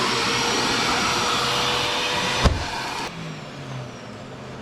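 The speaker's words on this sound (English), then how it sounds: "I'm just going to leave the vacuum on, spray down, start from the bottom." A shop vacuum runs steadily with a loud, broadband roar while waders are inspected for holes, with a brief sharp burst partway through before the drone continues slightly quieter.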